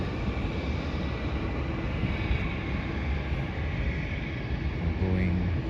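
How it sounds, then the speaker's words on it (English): A Boeing 777 arriving from Auckland on its landing approach, heard as a steady, broad jet roar that holds at an even level throughout, with some wind buffeting on the microphone. "Boeing 777 from Auckland is landing soon. There it is."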